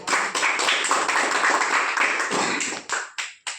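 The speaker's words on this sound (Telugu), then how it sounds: "అందరు చప్పట్లు కొట్టండి." A group of people clapping together at a birthday celebration for Dr. SP Ramesh Babu, steady dense applause that breaks into a few scattered claps near the end.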